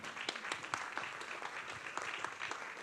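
Audience applause at a neighbourhood council meeting in Bordeaux, a steady wash of many hands clapping at moderate volume, with no voices over it.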